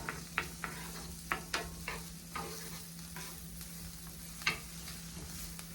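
Chopped garlic frying in a hot pan, a soft steady sizzle broken by occasional sharp clicks and scrapes of a utensil stirring, close and fairly quiet with no voices.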